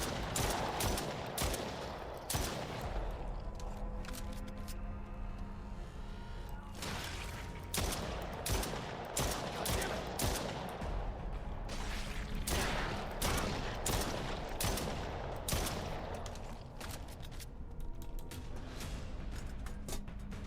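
Rapid bursts of gunfire from monster shooting in the horror game Stray Souls, with repeated volleys and machine-gun-like rattles crowding the whole stretch, loud and continuous under a low game soundscape.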